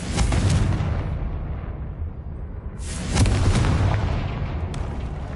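A Confringo blasting spell from Hogwarts Legacy goes off in two loud, booming explosions with rumbling tails. The second blast follows about three seconds after the first, and there is no talk over them.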